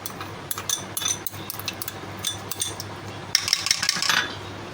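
A metal utensil clinks and scrapes against a bowl in quick, irregular strokes as boiled potatoes are mashed with salt and spices for aloo tikki, close and fairly loud, with a brighter run of clinks near the end.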